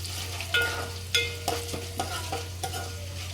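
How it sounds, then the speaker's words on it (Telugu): Dried red chillies fry with crisp lentils in oil for a tempering, a soft continuous sizzle punctuated by several sharp stirring clinks at a steady pace. "ఇప్పుడు ఎండుమిర్చి ఎండుమిర్చి మంచిగా ఫ్రై కావాలి"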